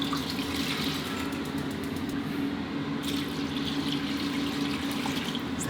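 Plain water pours steadily into a cooking pot for braised pork-leg stew, a continuous watery rush with no talk over it.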